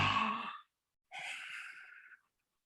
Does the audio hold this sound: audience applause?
no